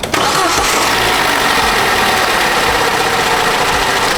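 A Vauxhall Astra 1.4 litre petrol engine cranks and catches at the start, then settles into a loud, steady running idle close by, with no talk.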